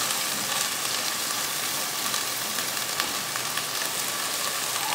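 Garlic and cumin frying in a pan for Afghani kishmish rice, a steady, even sizzle that holds at the same level throughout with no voice over it.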